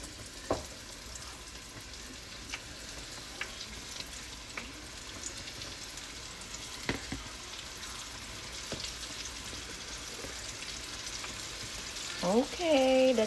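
Chicken pieces frying in hot oil, a steady crackling sizzle with occasional sharp pops and spatters throughout, and a brief voice-like tonal sound rising near the end.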